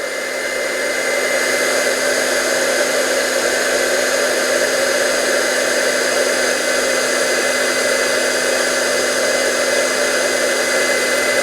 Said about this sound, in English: Now I'm going to take my heat tool